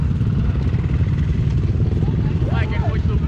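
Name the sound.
motorcycle on trail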